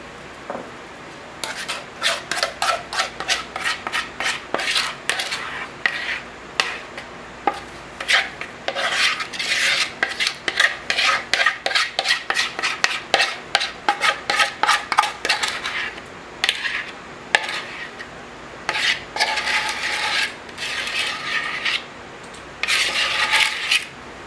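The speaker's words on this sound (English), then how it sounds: "now we're going to add our batter to our pan" Cake batter is scraped from a bowl into a baking pan with a utensil, giving a long run of quick, close rasping scrapes and taps, loud and rhythmic with brief pauses.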